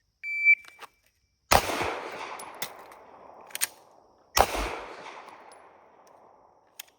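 Two sharp, loud pistol shots during a reload drill, several seconds apart, each followed by a decaying echo, with a shot-timer beep at the start and small clicks between.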